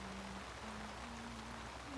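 Steady rain falls across a garden, a soft, even wash of drops with no voices and no break in the patter.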